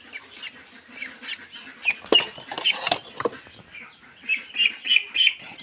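Pekin ducks on a farm, a flock quacking in scattered overlapping bursts with rustling and pattering movement, fairly close and continuous without speech.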